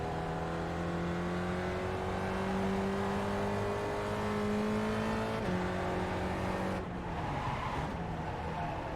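A Gen3 Spec Racer Ford race car engine in iRacing holds a steady high drone that rises gradually in pitch, then drops sharply under braking with a brief downshift burble, close and loud throughout.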